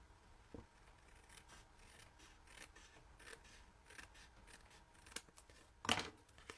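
Scissors trim a small section of card stock at close range, with faint, brief snips and rubbing scattered through and one sharper cut near the end, with no talking.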